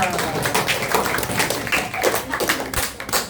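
Children at a Sunday school prayer gathering in a house clap their hands together, a close, fairly loud run of quick uneven claps with a few sharper slaps and faint voices among them.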